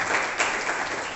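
Audience applause welcoming a speaker at a talk on family challenges, a brief burst of dense, steady clapping.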